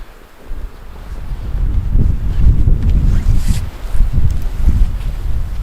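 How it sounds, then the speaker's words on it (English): Strong wind gusts sweeping in off a frozen lake and buffeting a hot tent at minus 15, a steady low roar that swells and surges in waves, with microphone buffeting and no speech. "the wind is coming in from the lake and it's gusting pretty strong"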